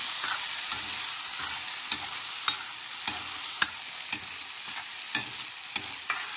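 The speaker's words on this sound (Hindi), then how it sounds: "अब इन चावलों को ना अच्छे से भून लेंगे घी में।" Rice being stirred and roasted in ghee in a pan, a steady frying sizzle with a spoon scraping and clinking against the pan at irregular moments, close and continuous with no voices.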